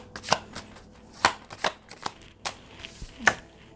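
A deck of tarot cards is shuffled close up in quick, crisp riffles and slaps. About a dozen sharp snaps come in an irregular rhythm with brief gaps between them.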